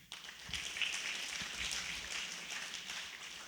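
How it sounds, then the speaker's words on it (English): Audience applause welcoming a presenter at a seminary golden jubilee lecture in Uganda, a steady, fairly faint patter of clapping from a hall crowd that holds evenly for several seconds. "You can keep clapping until he arrives here"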